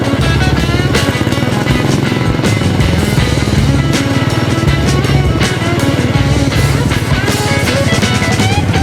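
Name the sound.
motorcycle riding on a rough road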